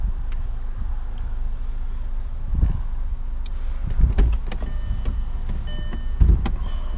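A 2009 Volkswagen Eos 2.0T hard top convertible roof running through its automatic cycle, with a low electric motor hum and a few distinct mechanical clunks and clicks as panels move and seat, heard close up.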